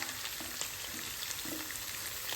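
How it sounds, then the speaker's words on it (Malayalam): Green chillies frying in a pan for vadpuli pickle, giving a steady, even sizzle throughout with faint crackles and no talk. "പച്ചമുളകും 1 മിനിറ്റ് ചൂടാക്കുക"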